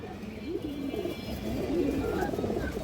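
Female pigeons cooing close by in a continuous low, rolling murmur, several birds overlapping throughout.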